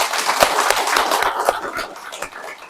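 A church congregation claps briefly, scattered sharp hand claps over a dense, loud wash that fades toward the end.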